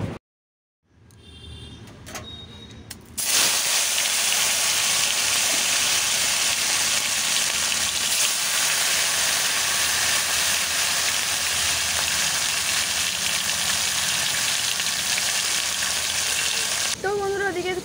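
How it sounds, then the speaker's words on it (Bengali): Fish fries in a kadai with a loud, close, continuous sizzle that starts abruptly after a few seconds of clunks and handling noises and holds steady until the end. "ওদিকে কড়াইতে দেখতে পেলে মাছ ভাজতে দিয়েছি"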